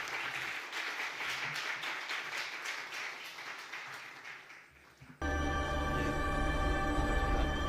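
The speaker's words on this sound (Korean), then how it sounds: "우리 큰 박수로 환영하도록 하겠습니다." A church congregation at a Sunday service claps to welcome a missionary speaker: a lively round of applause that thins out over about five seconds before abruptly giving way to a steady, loud tonal recording.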